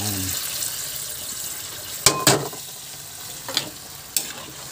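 Onions and pork and beans being stirred in a frying pan, a steady low sizzle running throughout with a few sharper scrapes of the spoon against the pan close by.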